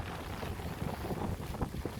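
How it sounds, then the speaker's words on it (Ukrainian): Steady wind buffets the microphone on a mountain hike to Hoverla in the Carpathians, a rough low rumble that gusts and flutters throughout with no voices. "Щоб не закривати, як вітер дує"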